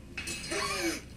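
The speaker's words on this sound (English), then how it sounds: "The sound of a breaking piggy, if ever I've heard one" Cartoon sound effect of a piggy bank breaking: a sudden ceramic crash and clatter with ringing, tinkling shards that rise and sweep down before fading, close and alone.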